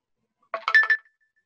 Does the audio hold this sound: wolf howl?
no